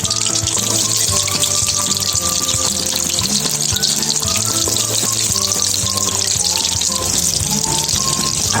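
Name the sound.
chopped onion and garlic frying in hot oil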